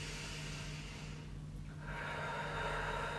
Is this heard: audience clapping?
no